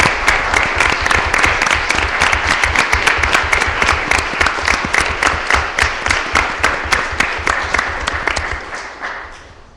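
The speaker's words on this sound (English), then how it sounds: "Please give them a round of applause." Conference audience at the JBANC Baltic Conference gives a round of applause, dense, even clapping from many hands that holds steady and then thins out and fades near the end.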